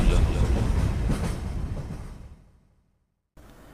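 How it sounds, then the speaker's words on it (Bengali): A train pulls into a station in an animated ghost story, its rumbling, clattering wheels loud at first and then slowing and fading into silence as it stops, followed by a quiet return of background sound. "ট্রেন স্টেশনে এসে থামল।"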